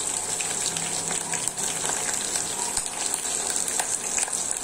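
Hibiscus flowers and fenugreek seeds boil in a pot of water, a steady close bubbling and hissing wash that holds even and unbroken throughout, with no talking.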